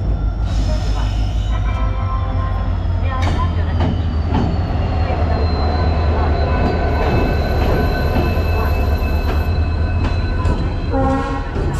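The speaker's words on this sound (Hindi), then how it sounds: "हमारी ट्रेन आ चुकी है, WD-40 लगा है, डीजल इंजन है" A diesel passenger train hauled by a WDG-4-class diesel locomotive arrives at Moradabad railway station, with loud continuous engine rumble, clattering wheels, squealing brakes and horn tones up close, amid busy platform noise.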